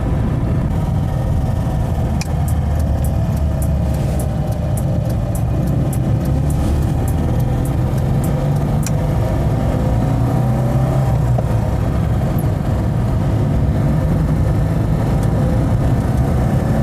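A 1983 Citroën Visa Spécial with a twin-cylinder engine, heard from inside while driving: a loud, steady low engine drone with road noise and a few faint ticks, with no talk.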